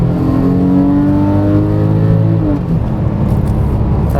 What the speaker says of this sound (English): here is full throttle on a Porsche